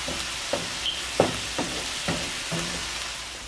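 Dominican codfish salad cooking in a pan with chili, soft sizzling under a series of stirring scrapes and light clinks at a steady pace, close and fairly quiet, no talk.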